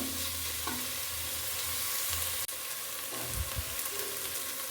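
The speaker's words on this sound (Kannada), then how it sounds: "ನೋಡಿ ಟೊಮೆಟೋನ ಹಾಕ್ಕೊಳ್ತಾ ಇದ್ದೀನಿ" Chopped tomatoes go into a hot pan of frying fenugreek leaves for methi bath, bringing a constant sizzle with scraping stirs, one sharp click midway, and a few louder spoon strokes toward the end, all close and wordless.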